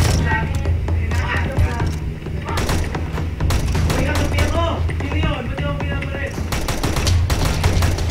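Rapid gunfire bursts with heavy recoil in a first-person shooter video game, loud and continuous, with players talking and shouting over the shots throughout.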